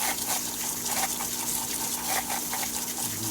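Water rushing steadily through a pool sand filter on rinse, a continuous loud gushing hiss with no break.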